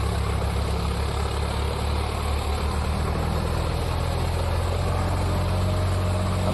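Loaded tractor engine labouring under strain, a continuous low rumbling drone with the revs sagging slightly, steady and fairly loud throughout.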